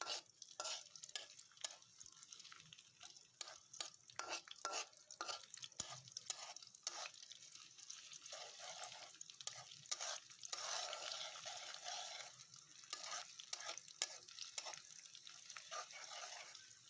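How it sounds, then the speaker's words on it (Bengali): Onions fry in hot oil and are stirred, a faint, distant sizzle with rapid repeated scraping and tapping strokes running throughout, quiet and alone. "পেঁয়াজ দেওয়ার পরে আমি একটু ভালো করে নাড়াচাড়া করব।"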